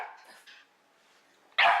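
A dog gives a single sharp, loud bark after quieter yips and whimpers while being teased by a cat.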